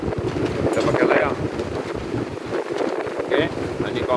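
A sailboat running under wind alone at sea with no engine, steady rush of wind buffeting the microphone and water washing along the hull, constant and close.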